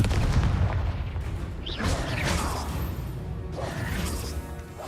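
A booming blast from a Confringo spell in a Harry Potter video game, with whooshing magical effects and crashing debris layered over a constant, dense game soundscape.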